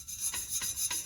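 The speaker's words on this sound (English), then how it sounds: "just go to town sanding the lips" Three quick, even back-and-forth rubbing strokes of sandpaper on the lip of a magnesium or aluminum Honda 600 wheel, faint and close with no voices.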